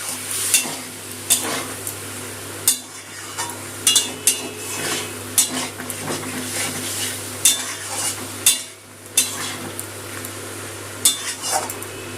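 Spice-rinsing water being stirred into poppy seed paste and potatoes in a cooking pan, with a steady close sizzle and repeated spoon scrapes and clinks against the metal throughout.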